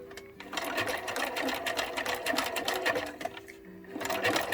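A sewing machine top stitches across a fabric face mask, running in a fast, continuous rattling whir with rapid needle ticks, close and steady throughout.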